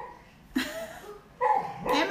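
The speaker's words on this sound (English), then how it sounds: "what is that crazy dog doing?" A sleeping puppy named Cooper, lying in front of a heater, lets out muffled barks and yips while dreaming; the short, close, whimpery bursts come in a few separate bouts.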